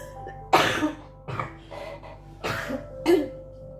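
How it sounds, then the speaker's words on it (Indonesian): Four harsh coughs spaced across a few seconds, close and fairly loud, with no talking around them. "Maaf ya kakak batuk, di skip saja"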